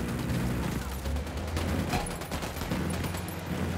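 Sustained dense gunfire in the video game Ghost Recon Wildlands, a continuous rattling fusillade of overlapping shots with a heavy low rumble running throughout, loud and close.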